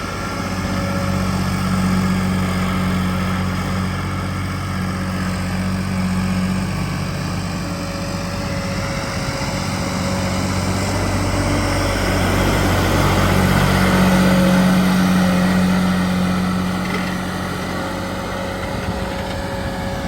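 A John Deere 5310 4x4 tractor's diesel engine idles steadily nearby in a field, a low continuous throb with a faint droning hum, running alone without voices.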